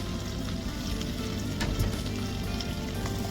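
Onions for a ginger garlic eggplant curry frying in oil in a pan, giving a steady, dense sizzle that runs unbroken at an even level throughout.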